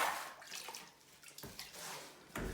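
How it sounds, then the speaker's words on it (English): Water splashes and runs as a whisk used for mixing plaster is rinsed off, a steady close wash with a few sharper splashes and no voices. "Now we can wash off the whisk."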